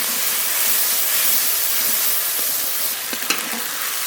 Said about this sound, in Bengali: যে মশলাটা বেটে রেখেছিলাম তেলের উপরে দিয়ে দেবো জিরে শুকনো লঙ্কা আদা জল দিয়ে কষিয়ে নেব